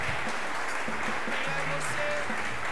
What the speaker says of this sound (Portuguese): Já aplaudiu o Senhor Jesus aí bem forte, bem bonito